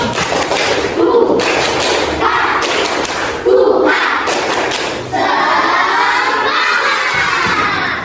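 A class of children performs a spirit clap chant, with loud shouted voices, rhythmic claps and thumps arriving in bursts and then a sustained chorus of young voices near the end.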